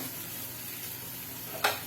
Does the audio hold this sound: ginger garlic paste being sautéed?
yes